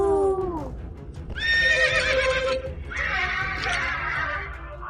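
A horse neighs loudly and nearby: a falling cry opens, then a long shrill whinny and another quavering one follow, heard over a low steady background.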